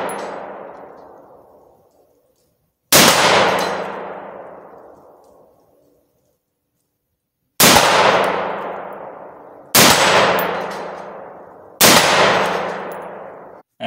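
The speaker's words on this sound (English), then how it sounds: "When it hits that steel target, at first it was getting a little bit scary because you see sparks" Four sharp rifle shots in .223/5.56 ring out as bullets strike half-inch steel targets, each impact a loud metallic clang decaying over about two seconds, spaced irregularly with silent gaps between them.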